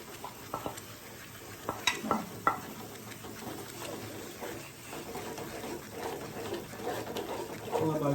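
Khova being stirred into carrot halwa in a pan, a spoon scraping and mixing the thick mixture in irregular strokes over a faint sizzle, close and fairly quiet.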